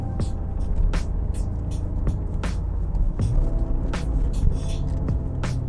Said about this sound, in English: And that six-cylinder sound?